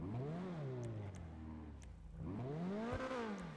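A Coquette D5 sports car with a twin rounded-bore exhaust revs in GTA 5, its engine note rising and falling in two loud, close sweeps with a brief dip between them.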